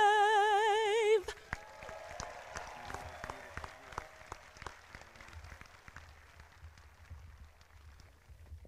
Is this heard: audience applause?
yes